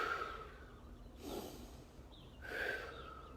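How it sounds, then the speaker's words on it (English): Deep breaths through the nose during a kundalini kriya for the root chakra, two long airy inhales separated by quiet pauses, close and soft. "So inhale forward."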